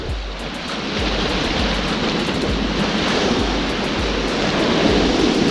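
Ocean waves wash over coastal rocks at a rock fishing spot, making a loud, steady roar of surf and spray that runs unbroken through the whole stretch, with no voices.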